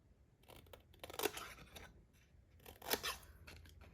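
Scissors snip through paper for a card-stock jar craft, two louder cutting strokes with softer crisp rustling between them, close and alone.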